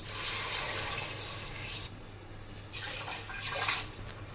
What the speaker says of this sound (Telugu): ఇంకో గ్లాసున్నర వాటర్ వేసుకుందాం.